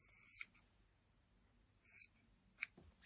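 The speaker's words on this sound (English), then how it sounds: "We could cut a piece off. Oh, I quite like that idea. Let's cut you off here." Scissors cutting across a piece of material, with a few crisp snips spaced apart against quiet room noise, close and clear.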